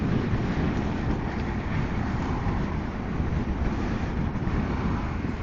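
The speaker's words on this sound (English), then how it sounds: "this wind is a bit annoying today" A steady wind rushes across the microphone outdoors, a dense, constant roar that stays fairly loud throughout without pauses or talking.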